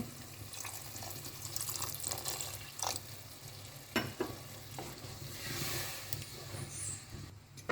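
Water poured into a pan of tamarind gravy cooking in oil, a soft continuous sizzle with stirring and light clinks throughout, fairly faint and close with no talking.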